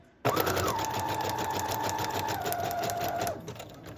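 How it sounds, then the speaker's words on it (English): A sewing machine stitches a single line across the top of a paper pouch made from scraps, a fast, even mechanical whir running steadily for about three seconds before slowing and stopping, close and alone. "I'm going to sew across the top, just one line."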